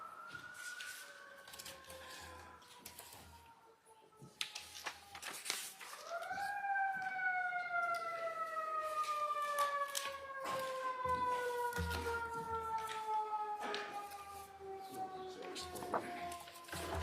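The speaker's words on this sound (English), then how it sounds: "1 second till the sirens go by" Emergency sirens pass outside a courtroom, their wailing tones rising and sliding as they go by at a moderate distance. The sirens carry on for most of the stretch, with faint voices and room noise beneath them.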